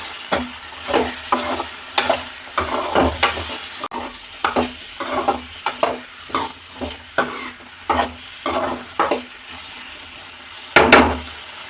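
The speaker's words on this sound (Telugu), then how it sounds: "వేసినట్టునే మొత్తం కలుపుకుందామండి." Chopped broad beans being stirred into fried onions in a pan: a rhythmic series of spatula scrapes and clatters, about a dozen strokes, over a continuous close sizzle, with a louder scrape near the end.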